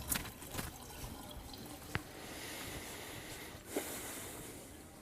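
Kevin Spacey washing his hands under running water, a faint trickling flow with a few sharp drips and splashes, fairly quiet and close, with a brief breathy sigh near the end.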